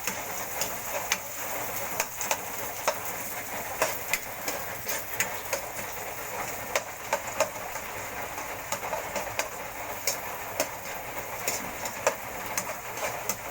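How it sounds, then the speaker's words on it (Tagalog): Chicken adobo sautéing in a pan gives a steady, close crackling sizzle scattered with sharp little pops, running unbroken with no talking. "Gisa-gisa lang po natin ulit."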